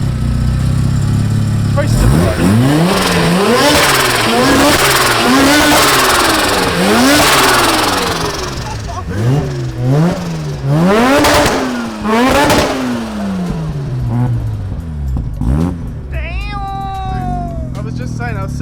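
A Mazda RX7 FD's two-rotor rotary engine fires up and is blipped repeatedly, loud rising and falling revs close by, with a voice speaking briefly over it.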